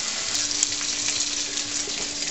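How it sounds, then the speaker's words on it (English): Bacon strips fry in a hot frying pan, a steady, loud crackling sizzle with small pops, continuous and close up with no voices. "I'm just going to throw them in a frying pan and fry them up"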